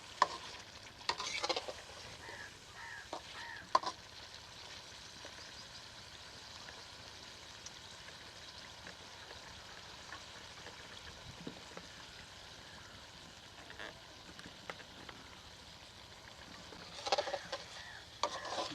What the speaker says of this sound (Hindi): गोश्त को भूनते हुए मुझे 3 मिनट हो गए हैं।